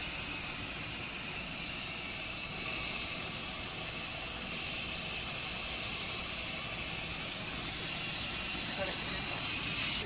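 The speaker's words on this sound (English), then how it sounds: "Steam has been let off." An Instant Pot venting steam gives a steady, loud hiss that runs unbroken from start to finish, with a faint hum of a kitchen fan underneath.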